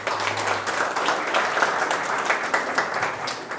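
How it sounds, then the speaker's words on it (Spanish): Audience applause after a talk at a Spanish-language panel discussion: a dense, steady wash of many hands clapping from a room full of listeners, sustained without a break. "Un aplauso más fuerte, por favor."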